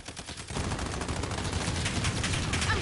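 Gunfire from a PS4 shooter video game breaks out after a brief quieter moment and becomes a dense, continuous volley of rapid shots that stays loud to the end.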